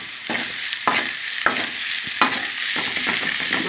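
Onions and masala with chili and salt frying in a pan for chicken curry make a continuous close sizzle, broken by periodic scraping strokes of a spatula.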